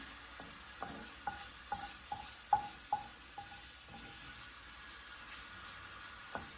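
Food cooking in a pan with sage, stirred until the liquid cooks off: faint, close spoon scrapes and taps in an irregular rhythm over a soft, low sizzle.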